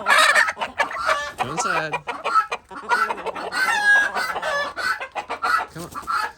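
Ducks quack loudly and busily close by in a steady chorus while a person talks over them.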